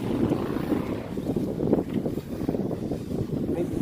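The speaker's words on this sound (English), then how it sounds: "It's very windy out here." Strong gusts buffet the microphone outdoors during a small FPV drone hand launch, a loud low rumbling roar that swells and dips without pause.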